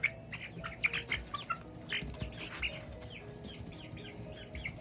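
Several baby chicks cluck and chirp in short bursts, close by, with soft scratching and rustling in the background.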